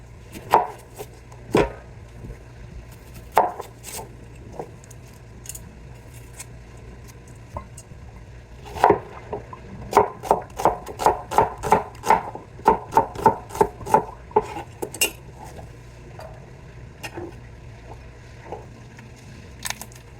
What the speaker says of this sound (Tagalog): may nakalimutan pala ako maghiwa ng sibuyas at bawang